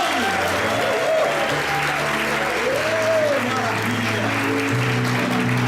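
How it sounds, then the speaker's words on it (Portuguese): An audience at a business seminar in Fortaleza applauds steadily and loudly, with music playing underneath the clapping. "Então uma salva de palmas a vocês!"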